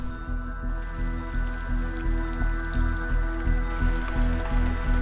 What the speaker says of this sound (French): et voilà, il pleut